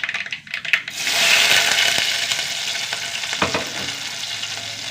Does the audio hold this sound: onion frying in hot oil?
yes